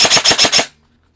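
An airsoft gun fitted with an ETU unit fires a quick full-auto burst of about five loud, evenly spaced shots, then cuts off abruptly into silence.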